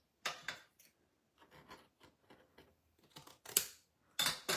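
Scissors snip through material for a 3D snowman craft, several close crisp cuts in short bursts separated by pauses, with no one talking.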